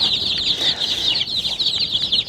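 Leghorn pullets clucking and chirping in a dense, continuous chorus close by in a cardboard box, with no pauses.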